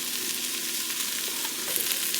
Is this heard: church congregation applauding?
no